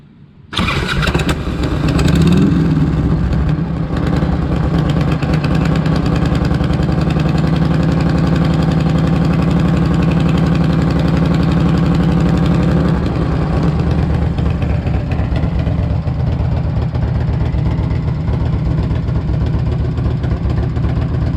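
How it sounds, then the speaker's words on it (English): A 1998 Harley-Davidson Electra Glide Classic with 95k miles, its engine hot, cranks and fires, then settles into a loud, steady, lumpy idle that continues alone without anyone speaking. "I'm gonna go ahead and start it up now and fill up the oil filter."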